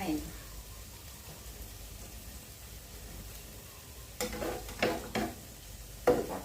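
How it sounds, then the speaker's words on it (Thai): Food frying in a pan until dry gives a low, steady sizzle, broken near the end by several louder scraping and stirring bursts of a utensil against the pan. "ทอดให้มันแห้งๆทอดให้มันแห้งๆก็ใช้ได้ค่ะ"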